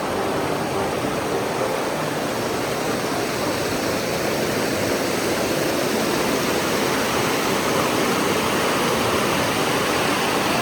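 Rushing water from a mountain stream in New Zealand's Richmond Ranges roars steadily and close by as a broad, unbroken wash that stays loud for the whole stretch, with no voices.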